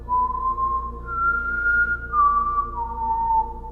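A thin, wavering whistle holds one eerie tone, gliding slightly up and down over a low rumbling background, steady and unbroken, with no voices.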